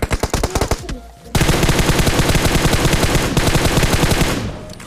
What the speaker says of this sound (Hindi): एक बंदा देखना भाई मेरे ऊपर क्या ही फायर करने वाला है